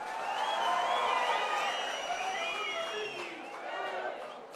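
A large outdoor crowd at a Rahul Gandhi rally in Karnataka cheers and claps steadily, a dense roar of voices blended with applause that swells and holds throughout.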